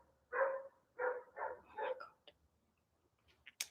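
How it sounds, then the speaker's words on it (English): A dog barking outside, four muffled barks in a loose rhythm followed by a few faint clicks, heard alone at a moderate distance. "Sorry, there's a dog barking outside."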